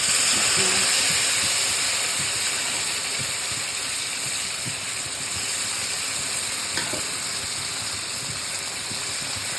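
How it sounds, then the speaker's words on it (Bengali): Mung dal tipped into a pan of fried prawns, giving a loud, continuous steamy hiss and sizzle that fades slightly over time, with no talk. "চিংড়ি মাছগুলো ভাজা মোটামুটি কমপ্লিট হয়ে গেছে। এখন আমি ডালটা দিয়ে দিলাম।"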